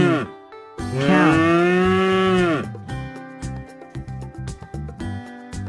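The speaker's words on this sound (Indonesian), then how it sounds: "Sapi. Cow." A cow moos loudly in one long, drawn-out call near the start, followed by softer, choppier lowing and background sounds; no one speaks.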